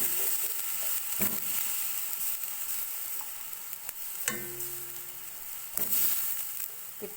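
Onions sauté in a pan as they turn golden brown, and then canned mackerel goes in for a Filipino ginisang patola with misua. The sizzle is soft and continuous, with a few sharp clatters and scrapes from the pan.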